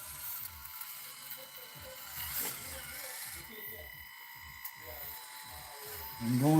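An Axial SCX30 RC crawler fitted with a Torque Beast motor grinds along in short, repeated whirring bursts of gear and motor noise, close by, with a person talking over it.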